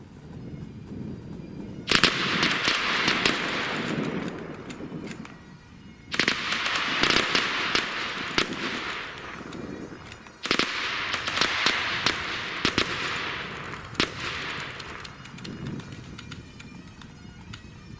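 A Mk I Lee Metford rifle fires three separate rounds, each a sharp loud crack that trails into a long rolling echo, spaced about four seconds apart with faint clatter in between.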